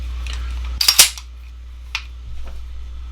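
Taurus PT1911 .45 pistol trigger pulled with a crisp break, giving a sharp close metallic click cluster, then a single lighter reset click about a second later, alone in a quiet room.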